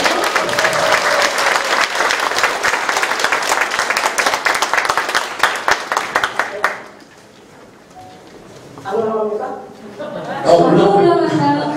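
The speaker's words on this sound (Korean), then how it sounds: "큰 박수로 환영해 주십시오" An audience at a talk concert marking Icheon mayor Kim Kyung-hee's first 100 days in office claps loudly to welcome her, sustained for about seven seconds before thinning into scattered claps, followed by murmuring voices.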